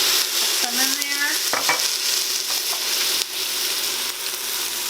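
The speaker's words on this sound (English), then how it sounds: "And we're going to kind of stir it." Dressing mixture with apple cider vinegar being stirred in a hot pan, a steady sizzle with a few scraping strokes of the spoon near the start, close and continuous, no talking.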